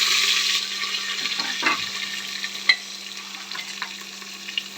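Onions with curry leaves frying in a pan for masale bhaat, a steady close sizzle with a few soft scrapes and stirs partway through.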